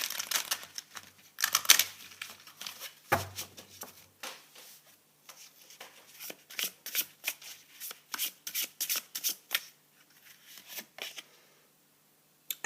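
Tarot cards shuffled and dealt on a table: a rapid riffle of crisp papery flicks, then a run of quick soft snaps and slides as cards are laid down one by one, close and fairly quiet, with no voices.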